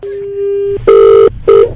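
Telephone tones on a radio prank call after the line is hung up: a steady tone, then two loud, clipped beeps with a short gap between them, close and clear.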